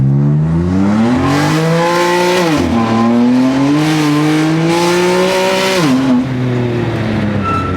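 Inside a BMW F80 M3 race car as it accelerates hard, the loud engine climbs in pitch through the gears, turbos coming in after lag, with brief shift dips and a continuous roar throughout.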